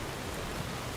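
Rain falls steadily in Diamond City in the video game Fallout 4, a soft, even hiss of drops with no other sounds.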